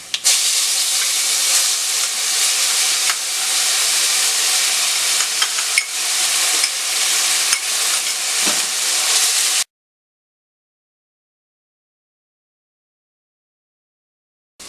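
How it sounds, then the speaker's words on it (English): Onion paste and turmeric powder frying in a pan, giving a loud, steady hissing sizzle for about ten seconds before cutting abruptly to silence. "Adding the onion paste"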